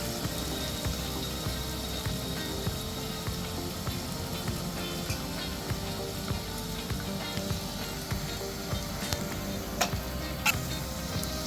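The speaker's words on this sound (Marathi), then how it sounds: "तर कांदा तांबूस होईपर्यंत आपण भाजून घ्यायचा कांदा" Onion frying in a pan for Marathi-style masoor dal, a steady close sizzle and crackle of hot oil running throughout with faint stirring scrapes, no talking.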